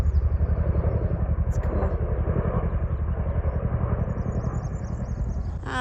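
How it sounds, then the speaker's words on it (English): A helicopter flies overhead near a river in Temagami backcountry, its rotor chop a rapid, steady, loud pulsing beat that continues throughout, with a brief voice murmuring beneath it. "I'm like, no, still another helicopter."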